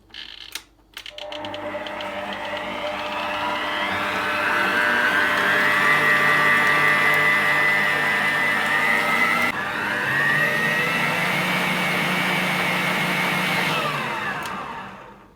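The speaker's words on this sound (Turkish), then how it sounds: "Yumurta ile şekeri güzelce çırpıyorum." An electric mixer whisks eggs and sugar for trileçe, a steady loud whirring drone with shifting pitch that runs continuously for over ten seconds before switching off.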